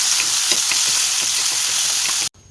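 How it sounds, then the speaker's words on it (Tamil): Chopped tomato sautéing in hot oil in a kadai gives a loud, continuous sizzle with light stirring clicks, then the sound cuts off abruptly near the end. "இதை நல்லா வதக்கிடுவோம்"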